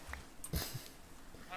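A sheep in a video game bleats briefly and faintly, a short wavering call against quiet background sound.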